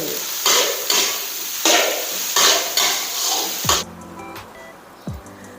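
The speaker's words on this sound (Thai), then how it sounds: "จะไม่มีน้ำมันก็จะแห้งนะผัดคลุกเคล้าได้เลย" Fried rice with Chinese sausage and crab sticks is stir-fried in a pan with loud rhythmic bursts of sizzling and spatula scraping, followed by quieter clinks of utensils against the pan.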